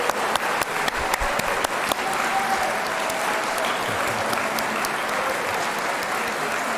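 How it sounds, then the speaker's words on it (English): Applause from a graduation convocation audience honoring graduates, a broad, steady clapping crowd with a few sharper individual claps near the start, sustained evenly at moderate loudness. "give them a round of applause."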